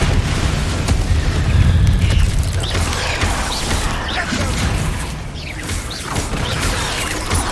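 Confringo blasting-spell explosions in the Hogwarts Legacy video game come as repeated booms with mechanical clanks and creaks. The combat noise is dense and loud throughout.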